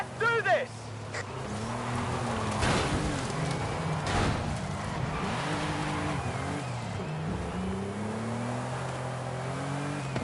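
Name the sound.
racing car engine accelerating, from a video game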